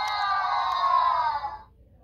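A BRIO Smart Tech toy train engine gives its shut-down sound, a bright electronic tone with a slightly whiny, cry-like character. It holds steady for about a second and a half, then cuts off abruptly.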